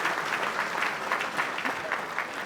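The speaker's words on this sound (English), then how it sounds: "Let's give them a round of applause." Audience applause at a city State of the City event, steady dense clapping from a large crowd filling the room, sustained and even throughout with no pauses.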